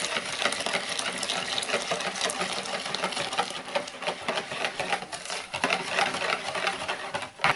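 Egg mixture whisked briskly into boiled milk for a custard cream filling, a steady busy clatter and swish of utensil against the pot that runs continuously and close up, with no voices.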